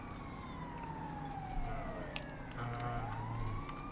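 Wailing ambulance siren in the GTA V LSPDFR police game, a sweeping electronic tone that rises and falls continuously at close range over steady road and engine noise, without talk.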